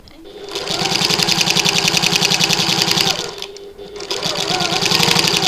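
A domestic sewing machine stitches fabric for a button lock bag at a tiny stitch length, running in two fast, steady mechanical bursts separated by a brief pause, loud and close with no talking.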